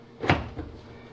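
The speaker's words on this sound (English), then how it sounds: "And this door we lift up," A GE gas dryer door being lifted off its hinges gives a short, close clunk with a brief rattle, followed by a softer knock.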